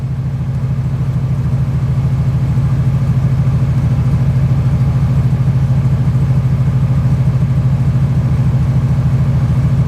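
A C5 Corvette's original engine idles steadily and close, a loud, even low rumble with a regular pulsing beat throughout and no talk over it.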